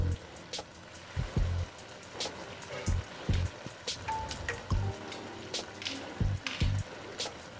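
Lentil dumplings (bori) sizzling in a pan with spinach, a steady crackling fry broken by scattered wet pops and sputters, close and moderately loud with no talk.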